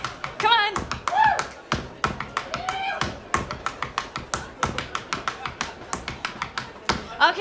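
At a live Irish Spring Festival show in Tübingen, an audience stamps and taps in a quick, regular beat while imitating Irish dancing, with scattered shouts and voices over the rhythmic thuds.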